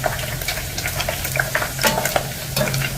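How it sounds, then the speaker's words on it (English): Small omena fish fry in hot oil over a high-heat burner, giving a steady, crackling sizzle with frequent sharp pops and spatters, close and alone. "So we're going to be frying them until they are golden brown."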